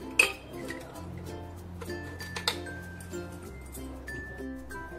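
Spoons and bowls clink and clatter as steel bowls are emptied while making sugar garlands (sakhar mal) for Gudi Padwa, with a couple of sharp metallic knocks over a steady background hum, no talking.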